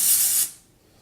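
SGX NYC dry shampoo sprayed onto hair in one close, loud, breathy hiss from an aerosol can that cuts off abruptly, leaving near silence.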